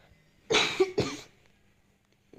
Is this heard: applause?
no